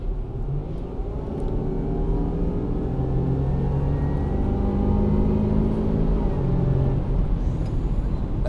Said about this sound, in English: This is a 340 horsepower supercharged 3-liter motor, and you can hear the supercharger whine at high RPM